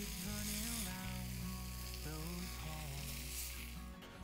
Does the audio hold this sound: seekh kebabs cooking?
yes